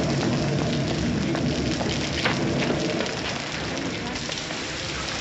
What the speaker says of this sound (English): If it's raining worse, it's a sign it's nearly over.